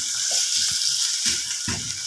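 Chicken with red chili frying in a pan, a steady high sizzle broken by short scraping stirs, close and fairly loud with no talk.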